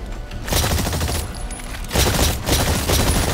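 Rapid gunfire bursts from weapons shooting at a target in the video game Exoprimal, loud and dense with two sustained volleys and no talking.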